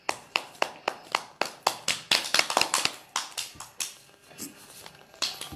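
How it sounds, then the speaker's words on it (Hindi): A small group claps by hand at a women's business event, crisp separate claps at first that thicken into quick overlapping applause, then thin out and fade. "सभी लोग तालियों से उनका स्वागत करिए"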